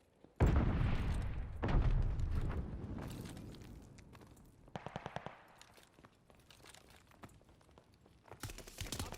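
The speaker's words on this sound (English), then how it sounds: "Throwing grenade. Tossing stun grenade." Grenade blasts and gunfire in a Call of Duty Vanguard search-and-destroy match, loud booming bursts followed by rattling shots and scattered impacts across the stretch.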